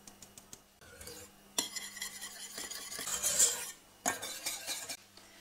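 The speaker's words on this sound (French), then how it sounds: "Et puis la farine, on va la tamiser." Flour is sifted for a Japanese cheesecake in a kitchen, giving close, soft scraping and rubbing bursts with short pauses between them and no voices.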